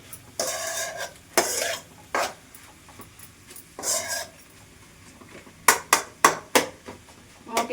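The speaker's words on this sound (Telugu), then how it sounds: "అంతా కలుపుకోవాలి మంచిగా" Curry being stirred in a pan: a spoon scrapes and rubs against the metal in close, separate strokes, quicker taps near the end, with no talk.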